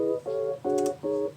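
Synth patch playing a short chord progression, a 2-5-1 in D; four sustained chord stabs with brief gaps, clean and moderately quiet with no voices.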